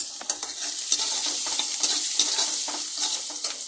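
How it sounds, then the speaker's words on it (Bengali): Leafy greens frying in a pan with turmeric and salt, giving a steady bright sizzle with soft stirring scrapes throughout, close and continuous with no talking. "একবারই শাক যে ভাজবো, ওতে হলদি নুন একদম পরিমাণ মতো দিয়ে দিলাম।"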